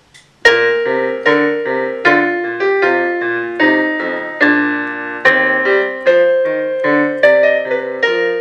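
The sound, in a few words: piano playing a Bach minuet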